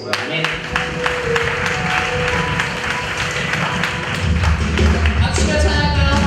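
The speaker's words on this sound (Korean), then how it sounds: "이 시간 주님께 영광의 박수 올려드리겠습니다." A church congregation at a worship service applauds, with a steady wash of many hands clapping together under a voice and a low, droning accompaniment that swells toward the end.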